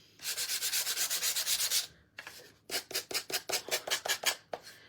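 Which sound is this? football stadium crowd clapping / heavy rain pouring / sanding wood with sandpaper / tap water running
sanding wood with sandpaper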